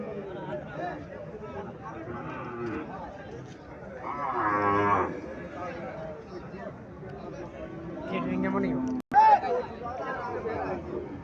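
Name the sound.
cow mooing at a cattle market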